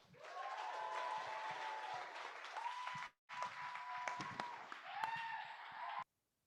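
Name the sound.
round of applause for a competitor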